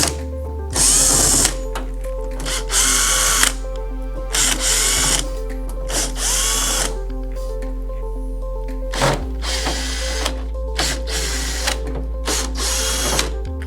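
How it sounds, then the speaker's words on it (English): A power drill backs out screws from the side covers of an upturned EdenPURE 1000 XL heater, the motor whirring in several loud close bursts of a second or two each, separated by brief pauses and light clicks. "at this point you want to remove the side covers"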